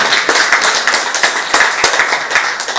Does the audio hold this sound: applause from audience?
yes